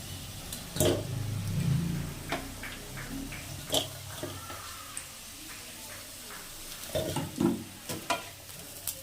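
Potatoes fry in oil in a wok while being stirred, giving a sizzling bed broken by repeated scraping and knocking strokes of a spatula against the pan, close and fairly loud, with no speech.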